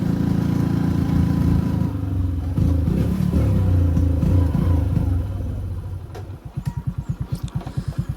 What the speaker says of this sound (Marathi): बुट बुट बुट बुट करायला लागले गाडी.